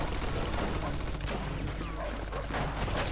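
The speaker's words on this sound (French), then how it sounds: "on dirait qu'on a retrouvé la mitrailleuse" Dense, continuous gunfire from the Mafia 2 video game, a machine gun hammering away amid a steady roar of shots and battle noise, loud and sustained without pause.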